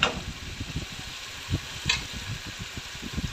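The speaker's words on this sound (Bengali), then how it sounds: "তো লবণ দিয়ে আরও কিছুক্ষণ ভালোভাবে কষিয়ে নিতে হবে" Spice paste sautéing in oil for chicken curry, heard as a soft, steady sizzle with occasional stirring scrapes, fairly quiet and close, with a low background hum.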